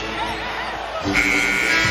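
A loud, sustained buzzer ending the third quarter of an NBA basketball game blares over crowd noise and an excited commentator's voice in a busy arena.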